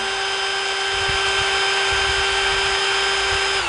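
Ronix 8905K 20-volt cordless hammer drill running at its lowest speed setting, around 145 rpm, with a loud, steady motor whine and faint mechanical ticking underneath, heard alone without speech.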